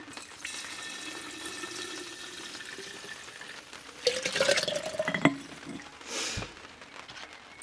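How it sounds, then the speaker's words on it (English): Homemade vinegar poured onto crushed eggshells for calcium phosphate fertiliser: a thin trickle and splashing of liquid at close range, building to a brief louder pour and fizzing patter, with no talking. "here we have our homemade vinegar ready to go into the crushed shell"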